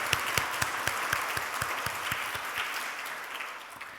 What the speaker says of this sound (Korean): 하나님 앞에 우리 영광의 박수를 올려드리겠습니다